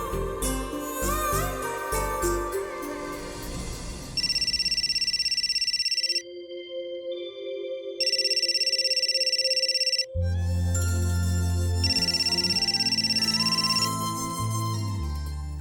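A telephone rings in a television drama, a repeated electronic ringtone sounding in loud bursts that start and stop across the span, with music playing before and between the rings.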